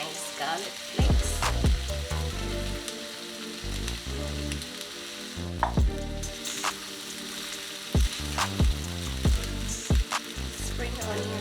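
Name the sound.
onions and garlic flakes frying for fried rice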